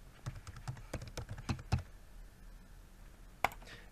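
Password being typed on a computer keyboard: a quick run of close, sharp key clicks at an uneven pace, then a pause and one last firm keystroke like an Enter press.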